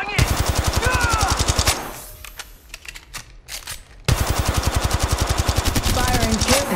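Rapid automatic gunfire in Apex Legends rattles in loud, steady bursts with a brief pause of scattered shots and impacts between them, while a voice speaks over the action.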